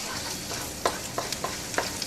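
Onion, chilies and tomato paste frying in a pan for chicken tikka masala, a soft steady sizzle broken by several sharp scraping stirs of a utensil against the pan.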